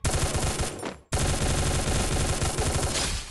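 Rapid automatic gunfire from a jump-shooting attack in Free Fire, loud and dense, with a short break near the one-second mark before a second sustained burst. No one speaks.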